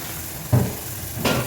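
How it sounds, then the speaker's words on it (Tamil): French fries frying in hot oil, a continuous bubbling hiss with two brief louder stirring sounds. "நல்லா சூடாகிட்டுருக்கு, ஃப்ரை ஆகிட்டுருக்கு பாருங்கள்."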